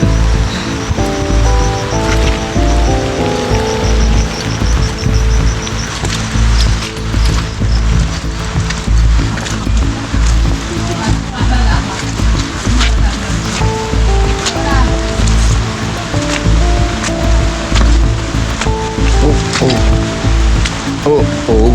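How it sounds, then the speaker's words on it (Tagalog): Heavy rain pours at Binurong Point, Catanduanes, a loud, dense steady roar on the surroundings lasting throughout, with occasional voices and wind-like rumble mixed in. "Ang lakas ng ulan."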